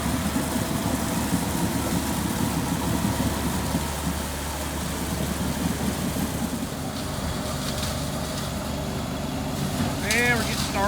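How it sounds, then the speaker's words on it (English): Mulch blower engine running steadily with a loud, continuous low rumbling drone close by, unbroken throughout. "we're getting started with the mulch blowing"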